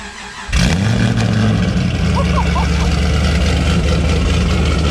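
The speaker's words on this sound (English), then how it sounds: "Let's get a cold start." An 800-horsepower car engine cold-starts with a sudden loud crank and catch, then settles into a steady, close, rumbling high idle that holds to the end.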